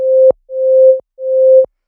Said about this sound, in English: it's a sine wave, and it's up really high, like if you play it on its own